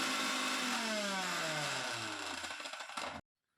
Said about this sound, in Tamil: நல்லா சுற்றி விட்டு அரைச்சி எடுத்துக்கோங்க.